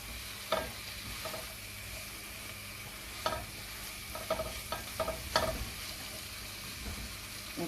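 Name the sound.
chicken sautéing in pan for fried rice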